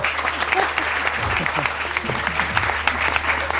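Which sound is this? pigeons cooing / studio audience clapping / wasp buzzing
studio audience clapping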